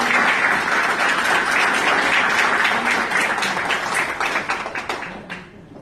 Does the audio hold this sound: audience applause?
yes